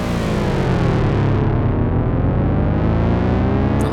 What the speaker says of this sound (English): That's going to add more of that soft distortion.